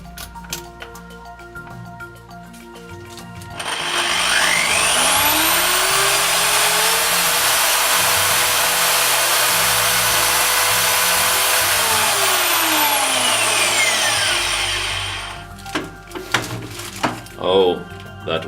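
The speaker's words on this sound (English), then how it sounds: "Let's run them and see that they work. Here's my old Black & Decker." An old Black & Decker drill whirs up to full speed, holds a loud steady high-pitched motor whine for about ten seconds, then spins down, with a voice talking near the end.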